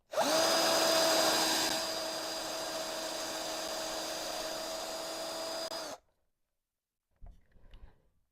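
A power drill drives screws into soft wood in a backyard build, one sustained whining run of about six seconds that fades, then a short rustle after silence.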